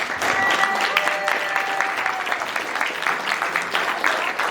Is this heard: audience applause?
yes